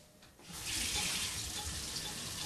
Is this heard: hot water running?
yes